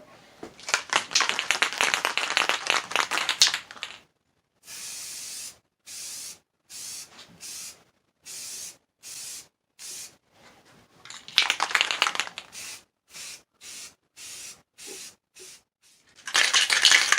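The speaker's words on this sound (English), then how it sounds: "I'm ready to put my first coat of spray paint on it" A PVC lightsaber hilt gets spray painted: a long continuous hiss of the can, then a run of short, evenly spaced bursts, another long spray, more quick bursts, and a final sustained spray, close and fairly loud.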